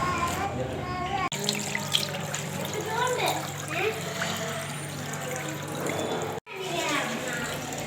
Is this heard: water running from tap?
yes